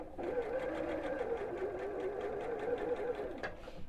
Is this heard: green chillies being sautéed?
no